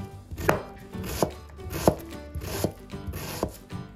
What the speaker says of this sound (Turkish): sonrasında soğanlarımızı ince ince küp küp yemeklik doğruyoruz